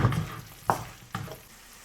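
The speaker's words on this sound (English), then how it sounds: "Now we're gonna add our onion. And we're gonna lightly fry until it's soft." Onion fries lightly in butter in a pan for butter chicken, a soft sizzle broken by a couple of sharp stirring scrapes.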